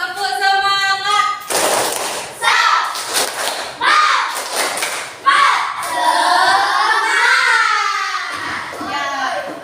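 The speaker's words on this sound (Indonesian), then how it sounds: "Yuk kita tepuk semangat." A class of children doing the "tepuk semangat" rhythmic clapping chant in a classroom, with bursts of claps and thumps between loud young voices chanting along, fairly close and energetic throughout.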